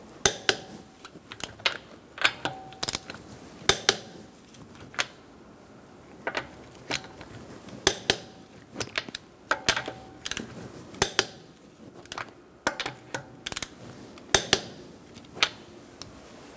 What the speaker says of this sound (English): We're going to torque this to 100 foot-pounds in a star-like pattern using a 19mm socket.